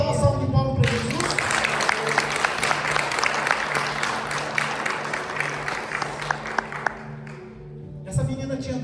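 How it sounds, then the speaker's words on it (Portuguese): A church congregation gives a round of applause for Jesus during a sermon. Dense, sustained clapping fills the room and is framed by the preacher's voice before and after. "Você pode dar uma salva de palmas para Jesus?"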